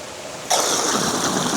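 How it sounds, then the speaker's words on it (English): Water and air bubbling through a homemade venturi aerator in a fish water setup, a steady broad rushing hiss that starts abruptly and continues loud and close. "It's just homemade Venturi, sucks the air in."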